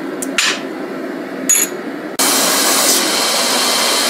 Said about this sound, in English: I had to go now to the belt grinder, clean these guys up